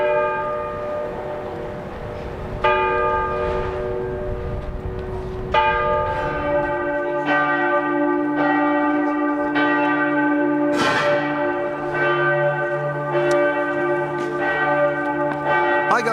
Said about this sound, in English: As you can hear, the bells are tolling.